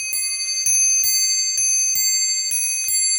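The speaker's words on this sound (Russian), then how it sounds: "Это все голоса часов." Clocks in a family home museum strike in a steady rhythm, about seven bright metallic chimes over a few seconds, each ringing out with sustained bell tones, close and clear with no talking.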